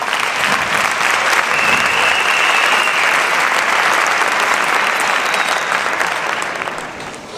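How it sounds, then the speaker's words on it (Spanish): Sustained, dense applause from a large audience at the 2024 Gaztelueta Christmas festival, steady and loud throughout before tapering off in the final second. "Así que un aplauso para ellos."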